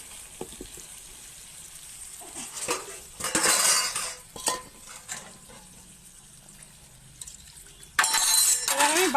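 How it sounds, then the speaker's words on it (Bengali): Marinated flat beans tipped into a hot pan, clattering against metal with scraping and clinking of a utensil and a sudden loud sizzle near the end, with brief talking. "দিয়ে দিলাম ম্যারিনেট করা সিম।"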